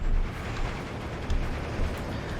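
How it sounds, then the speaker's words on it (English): Artillery fire rumbles through a battle in the video game Steel Division 2, a dense, continuous low roar of distant blasts with a few swelling booms, steady and loud throughout. "We've got artillery coming in from all directions."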